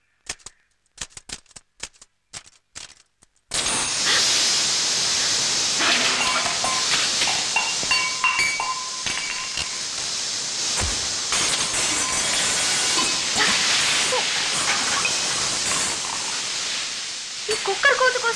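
A pressure cooker vents steam in a loud, steady hiss that runs from a few seconds in to the end, after brief clicks and taps at the start.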